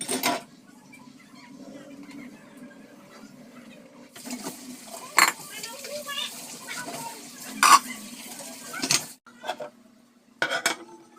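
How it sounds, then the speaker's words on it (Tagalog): Plates and dishes washed by hand at a home sink, with intermittent clinks, scrapes and water bursts between quieter stretches, close by, with a voice speaking at moments. "Maghugas naman ako ng plato."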